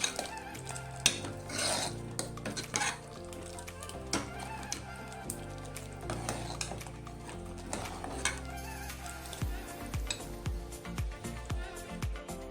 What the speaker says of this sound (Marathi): आता हे मिक्स करून घेऊ व्यवस्थित